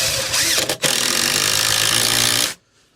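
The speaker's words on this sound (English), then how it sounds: "I'm going to screw into the end of this one here to pick this one up" A power drill drives a screw into the end of a wooden loft joist, a loud, close whirring grind lasting about two and a half seconds with one brief dip early on, then stopping abruptly into near silence.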